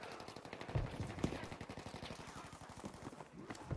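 A Tommy gun fires in Battlefield 5 multiplayer, rapid sustained automatic bursts with a fast, even rhythm of sharp reports, loud and close, with faint game sounds under it.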